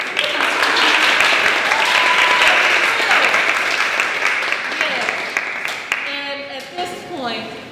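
A crowd at a senior literary showcase breaks into loud, dense applause that gradually thins out, with voices starting to talk near the end.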